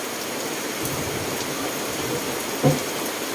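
Steady heavy rain pours down in the open during a Thai village cooking session, a dense even hiss that runs unbroken throughout, with a brief sharp knock near the end.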